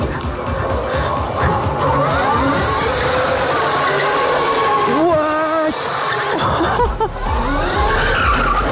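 A full-size electric RC go-kart, a 70 mph car, accelerating hard and skidding, with a loud, close roar of whining motor and squealing tires throughout, sliding in pitch as it slides.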